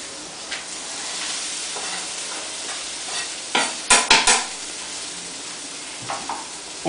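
Zucchini, carrots and onion sizzle steadily in a pan, with a burst of scraping stirring strokes near the middle over the continuous frying hiss.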